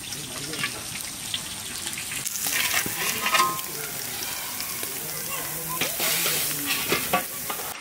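Bay leaf and whole garam masala hit hot mustard oil in a village kadai for prawn malai curry, bursting into a loud, steady sizzle that swells midway and crackles on with scattered sharp pops.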